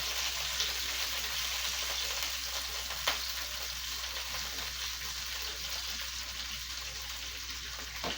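Homemade patties frying in a pan in a home kitchen, a constant soft hiss of sizzling oil with a couple of faint clicks, quiet and uninterrupted by talk.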